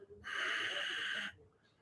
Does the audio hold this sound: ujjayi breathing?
yes